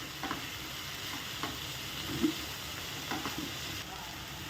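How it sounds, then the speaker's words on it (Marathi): Moong dal tossed with spices in hot oil sizzles quietly on high flame as a spoon stirs it, with a few soft scraping strokes and one sharper clink, fairly faint and with no talk. "आता ह्यामध्ये आपण जी मुगाची डाळ आहे आपली ती टाकून घेऊया ती थोडीशी तेलामध्ये परतून घेऊया"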